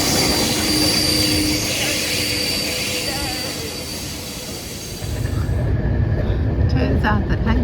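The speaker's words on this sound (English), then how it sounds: "Here it comes into the station." Train pulling into a station on the Vienna to Budapest line, with rumbling wheels and squealing brakes growing louder and closer. Background chatter runs under the noise.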